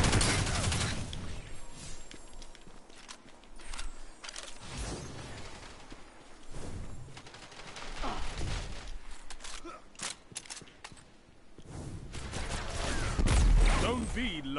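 Rapid bursts of hand cannon gunfire in a video game crackle in clusters, loud and close, with grunts and gasps mixed in between volleys.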